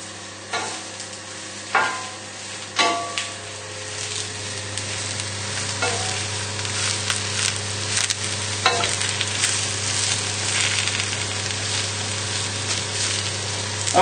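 Mushrooms sizzle steadily in hot oil in a pan, with a few sharp scrapes and clatters of stirring early on over the continuous frying hiss.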